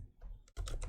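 Keys tapped on a computer keyboard while entering an Excel formula shortcut, a quick close clatter of a few strokes after a brief pause.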